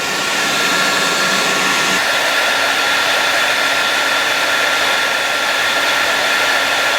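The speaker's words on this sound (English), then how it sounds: "I do have this Turbo Ceramic Hot Tools hair dryer" A Hot Tools Turbo Ceramic hair dryer blows hard in a garage during a Magnuson supercharger install, a loud, continuous whooshing whine that shifts pitch after a couple of seconds and then holds steady.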